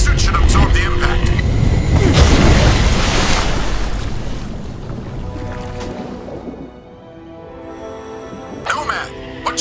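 Ocean water in the Crysis Remastered game: a loud surge of churning water and surf, with rumbling low wash that fades, then lighter splashes return near the end, under a voice speaking.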